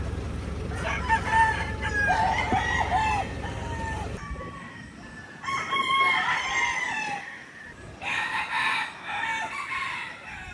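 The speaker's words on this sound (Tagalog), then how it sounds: "Yung manok dito pa ikot" Chickens cluck while a rooster crows repeatedly in loud bursts, with pauses between the calls, among a flock of fine roosters in the Philippines.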